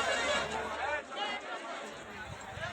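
A dense crowd of pilgrims fills Saptashrungi Gad during the Chaitra Purnima festival near Nandhuri, Vani, Nashik, with a close, continuous babble of many voices and shuffling movement.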